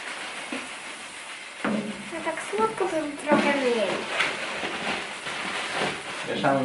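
Oatmeal stout mash being stirred by hand during brewing, a wet, churning scrape that runs steadily through the clip under a hiss of steam, with people talking nearby.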